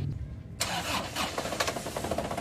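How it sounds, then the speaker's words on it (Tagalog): An Isuzu Crosswind engine cranks and catches at once, then runs with a steady, slightly rough idle, close and fairly loud. "pa-start mo na ngayon itong makina"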